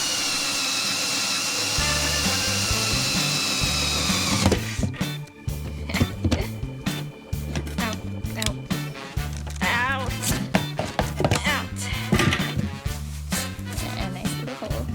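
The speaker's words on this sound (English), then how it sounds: "Once you get through with the inner drill, stop and reverse spin, otherwise it'll grab and ruin your lid." Power drill boring a hole through a plastic lid for a vertical hydroponic tower, a steady whine at first, then stuttering bursts of grinding and starts and stops as the bit cuts through, close and loud.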